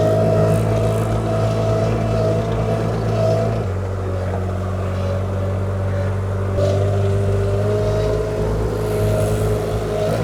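A new Avant compact loader's engine runs steadily with a low droning hum, its pitch stepping as throttle is added, close and continuous without speech.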